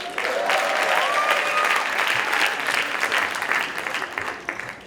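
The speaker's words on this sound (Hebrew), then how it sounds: "אז בואו נקבל במחיאות כפיים את האורח הראשון שלנו, מרגי!" An audience at a school graduation ceremony claps loudly and steadily to welcome a guest, a dense wash of applause lasting several seconds before tapering slightly.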